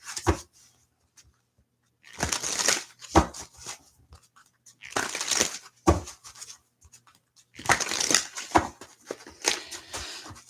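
Tarot cards are shuffled by hand in three close, brisk bursts of riffling and sliding, separated by near silence.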